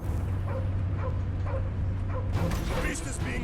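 Dog barks and whimpers from a creature in the Marvel's Guardians of the Galaxy video game, a few short yips spaced about half a second apart over a low game rumble, with a brighter burst of action noise near the end.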